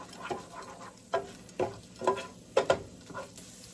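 Chopped onions fry in a pan on high heat for yellow rice with veggies. A soft, steady sizzle runs throughout, broken by about half a dozen sharp stirring scrapes at uneven intervals.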